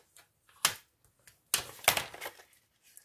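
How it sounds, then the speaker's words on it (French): A bone folder presses and creases paper for a small scrapbooking pouch: a few sharp dry scrapes and taps, the longest burst near the middle, separated by quiet gaps. "Et on vient plier avec notre plioir."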